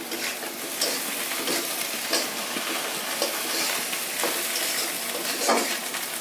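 Spice paste fries in cooking oil for a pangas fish curry, a steady, dense sizzle that holds close and loud throughout, with the scrape of stirring cutting through now and then.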